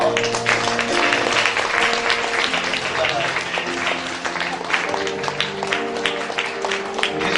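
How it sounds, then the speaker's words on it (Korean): Church congregation at an elder ordination service claps steadily while flowers are presented, with organ or keyboard music playing underneath and sustained applause throughout. "박수 치시면서."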